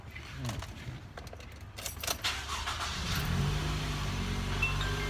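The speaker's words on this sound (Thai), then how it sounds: "ครับต่อมาเดี๋ยวทำการสตาร์ทรถนะครับ" A car engine cranks and catches, settling into a steady idle after some key and interior handling noises, heard close from inside the cabin with no talk.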